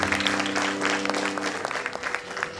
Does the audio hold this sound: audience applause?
yes